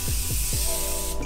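A continuous fine hiss of a makeup setting spray bottle misting, close and loud for about a second before cutting off.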